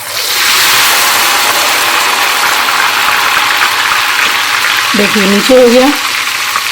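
Ghewar batter hitting hot ghee for Indian sweets, a steady broad frying hiss with foaming crackle throughout, fairly loud and close, with a brief spoken remark near the end.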